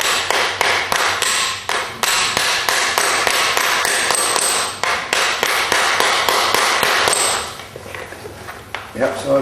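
A farrier's hammer strikes horseshoe nail clinches held against a clinching block while shoeing a horse's hoof: a loud, close run of rapid metallic taps that stops shortly before the end.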